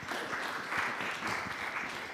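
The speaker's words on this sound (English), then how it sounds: "Give another round of applause" A conference crowd at the Adelaide Bonhoeffer Conference gives a round of applause, a moderate, steady patter of clapping in a hall that continues evenly with slight swells.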